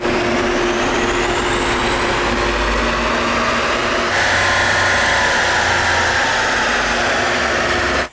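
A car engine at sustained high revs during a dyno power run with an acceleration boost fitted, a loud continuous roar that holds steady for several seconds, shifts upward midway, then cuts off at the end, with no talk over it.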